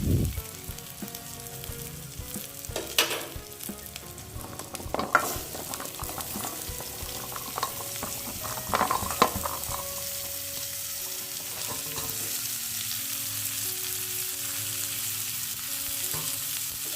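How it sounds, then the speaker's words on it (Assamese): Red amaranth leaves and jackfruit seeds stir-fry in hot spiced oil in a pan, a steady close sizzle and crackle throughout with scraping stirs and a few clanks from the spatula, no talking. "মৰিচা শাকখিনি ভালদৰে লৰাই থাকিব লাগিব।"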